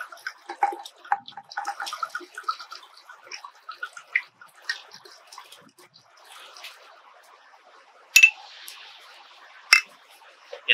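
Sweet Virginia Riesling poured from bottles into a sangria pitcher, a light trickling and gurgling splash of liquid with scattered clinks and clicks, fairly quiet and close, without talk.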